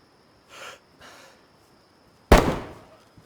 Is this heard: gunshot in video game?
yes